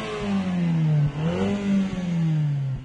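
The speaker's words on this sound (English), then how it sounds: "this is the sound of the GTI" A Volkswagen GTI engine and exhaust rev up and down close by, a smooth, throaty drone that rises and falls in several swells with brief dips between them.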